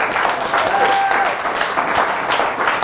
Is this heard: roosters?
no